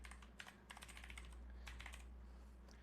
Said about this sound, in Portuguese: Então eu vou digitar o meu e-mail aqui e vou fazer a ativação.